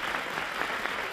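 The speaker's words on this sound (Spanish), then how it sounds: "Ahí está el primer aplauso para Francisco." A studio audience at a Spanish television game show claps in a brief, dense burst of steady applause.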